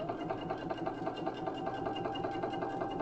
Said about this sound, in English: So I'm just sewing to here.